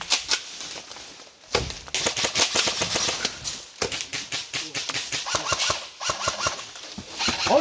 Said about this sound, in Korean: 또 쏜다.